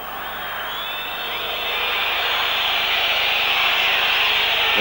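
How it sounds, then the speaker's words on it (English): Large football stadium crowd at a Hungary versus Wales international match, a broad sustained roar of disapproval swelling steadily louder across the stands after a back pass, with no talk over it. "The crowd doesn't like the back pass"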